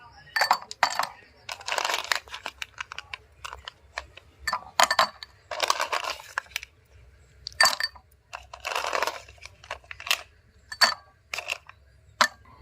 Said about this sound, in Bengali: এবার আমি বরফের টুকরো দিয়ে দেব প্রতিটা গ্লাসে